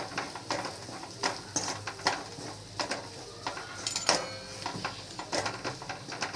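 Onions fry with coriander powder and chilli powder while a spoon stirs them in a pan, making soft, irregular scraping strokes over a quiet sizzle.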